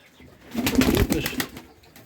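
Pigeons in a loft coo nearby in a soft, rolling murmur that swells and fades over about two seconds, with no talking.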